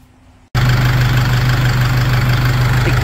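An Isuzu D-Max pickup engine cranks and catches after a brief quiet moment, then settles into a steady, loud, close idle with a constant low hum, no voices.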